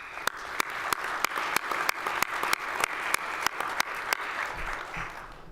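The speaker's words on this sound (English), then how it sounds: "I want to give them a round of applause." A conference audience claps together, a brief burst of applause with distinct, fairly rhythmic loud claps standing out over the dense crowd clapping, tapering at the end.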